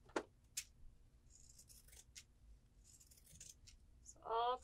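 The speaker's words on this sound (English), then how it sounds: "back to pinking" Pinking shears snip through fabric while sewing a pillow: a few sharp, close, quiet clicks and crunches spaced across a quiet room, ending in a short burst of cutting.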